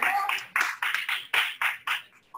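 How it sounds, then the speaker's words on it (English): Scattered applause from a small hackathon audience, several sharp overlapping bursts of hand clapping in quick succession that trail off after a couple of seconds. "So please clap."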